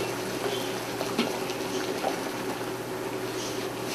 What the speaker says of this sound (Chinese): 水开了